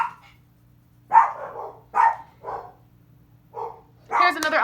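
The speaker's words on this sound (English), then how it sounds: "I'm waiting for my dogs to stop barking" Indoor dogs let out a string of sharp barks and yips in uneven bursts, some spaced by pauses of silence, ending in a louder, rougher flurry.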